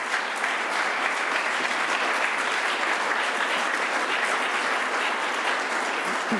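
A lecture hall audience gives a sustained, full round of applause welcoming lecturer Timothy Hampton, dense and even throughout, with a faint tail as it begins to thin at the very end.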